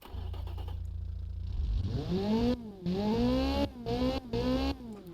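A car engine without a supercharger, in an Automation and BeamNG build, idles low and then revs up in several rising sweeps, each cut short and repeated, loud and close with no talk.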